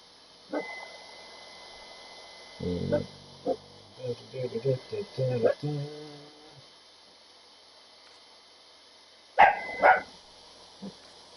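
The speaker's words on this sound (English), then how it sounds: "She always barks when someone rings the doorbell." A dog barks in a short cluster of sharp, fairly close yelps after the doorbell rings at night indoors, followed later by a couple more isolated barks.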